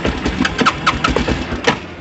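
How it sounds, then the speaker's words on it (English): Kawasaki Bayou 220 or Baja WD250u ATV with a carburetor in need of cleaning runs on choke, its small engine putting out uneven, sputtering pulses up close and alone. "Okay, so we're able to start and run with the choke on."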